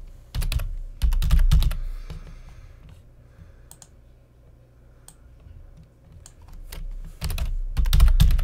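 Typing on a computer keyboard comes through as close, crisp key clicks in quick bursts with short pauses between, some strokes sharper and louder, and no one talking.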